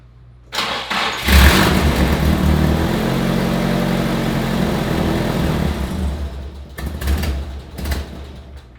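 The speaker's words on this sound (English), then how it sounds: "the car basically dying right on startup" Nissan 180sx fitted with an HKS Hi-Power exhaust cranks and catches, runs roughly for several seconds, then dies, followed by a few weak sputtering restart attempts; close and loud with no talking.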